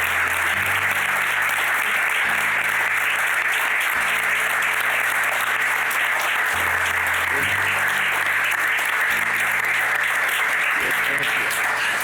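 Sustained audience applause fills the whole stretch at a panel event with Paul Rusesabagina, a dense even wash of many hands clapping with no break.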